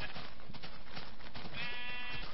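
Sheep bleat on a video game farm while the animals are fed and mated, a layered flock bleating steadily over game background sound for a couple of seconds, ending with a higher, drawn-out bleat.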